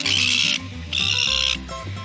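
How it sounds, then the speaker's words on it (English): Seagulls on Cockatoo Island in Sydney give two long, loud, harsh calls close by, with a quieter low rumble of background noise underneath. "它应该叫 Seagull Island， 超级多的，真的。"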